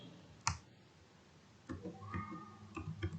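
Light computer keyboard typing in a quiet room, a sharp click followed after a pause by a soft run of uneven taps and clicks close to the microphone.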